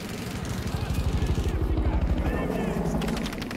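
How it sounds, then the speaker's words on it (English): A helicopter in the shooter game Battlefield 2042 pulses with a loud, rapid rotor thump that swells toward the middle and then eases off, with some mechanical noise mixed in. "There's a chopper again."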